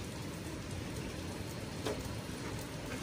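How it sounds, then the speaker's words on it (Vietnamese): Steady rainfall outdoors in a rural mountain village, a soft, even hiss of drops with faint patters on surfaces, continuous and unbroken, no voices. "trời mưa rồi"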